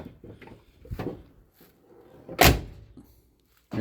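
The door of a 1973 GMC truck, sound-deadened with Dynamat inside, closes with a soft, solid thud, preceded by a lighter clunk and followed by faint handling noises in a quiet space.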